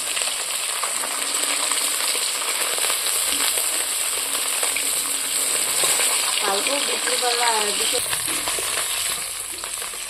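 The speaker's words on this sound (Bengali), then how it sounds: "আর এক পর্ব মাছ ভাজা হচ্ছে দেখতে পাচ্ছ তোমরা" Fish frying in oil in a pan, a dense, loud, continuous sizzle heard up close throughout, with a few faint clinks partway through.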